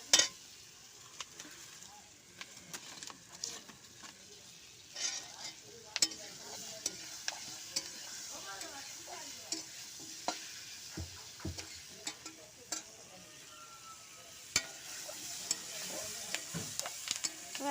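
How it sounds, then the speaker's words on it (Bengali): Potatoes and green chilies fry in a pan with a soft continuous sizzle, punctuated by repeated clinks and scrapes of a spatula as they are stirred, close but fairly quiet and without talk. "কাঁচা লঙ্কা দিয়ে ভালো করে নেড়ে জল দিয়ে দেবো, আর একটু লাল লাল করে ভেজে জল দিয়ে দেবো।"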